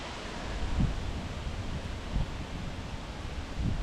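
Wind blowing through a spring garden, a constant rushing noise with gusty low buffeting thumps against the microphone recurring every second or so.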